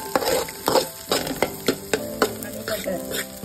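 Chopped onion and capsicum sizzle steadily in a hot pan, with a spoon or spatula scraping and stirring in repeated strokes close to the mic, and no talking.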